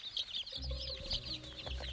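Domesticated chickens cluck and murmur in a short, busy stretch of farmyard sound, with low rustling and a soft, continuous background murmur.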